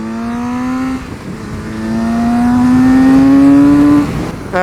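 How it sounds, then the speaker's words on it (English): A Kawasaki Z900 RS four-cylinder motorcycle engine revs up through the gears, its smooth rising whine climbing in steps, loud and close with wind rush. "I really like this engine, like such a torquey 4-cylinder."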